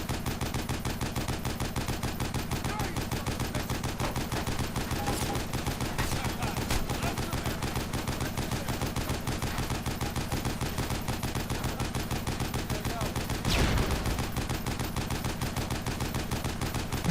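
A gun in the video game Hunt Down The Freeman fires without letup, a dense rapid burst of shots that holds loud and steady throughout with no pause between them.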